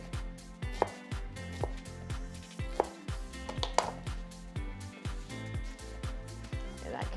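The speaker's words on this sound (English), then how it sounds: "I'm going to run my knife through a few times" A kitchen knife repeatedly minces shallots on a cutting board for a summer squash salad, with steady, evenly spaced chopping thuds that continue throughout at moderate volume.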